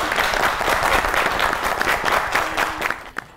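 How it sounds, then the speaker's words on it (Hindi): A studio audience at a Pakistani comedy talk show breaks into loud, dense applause that stays full and even before tapering off with a few last claps. "अगर आप चाहते हैं कि हम सब वज्र में आ जाए तो ताली मारिए"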